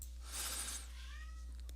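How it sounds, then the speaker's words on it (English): A house cat meows once in a quiet indoor room, a short rising call that is fairly faint over a steady low hum. "if you hear a little meow in the background"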